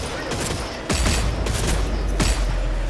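Loud bursts of gunfire in the vampire shooter Redfall, with sharp shots near 1.0, 1.5 and 2.3 seconds over a dense, continuous roar of game noise.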